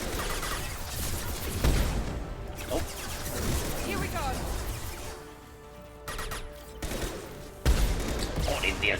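Gunfire in the video game Mass Effect 2: bursts of weapon fire and crashing impacts come in clusters amid game music and effects, with someone talking over the action.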